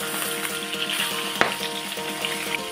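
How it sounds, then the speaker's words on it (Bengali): Pieces of katla fish frying in hot oil in a wok, a loud, dense, continuous sizzle with one sharp clack partway through. "মাছগুলো ভেজে নেব।"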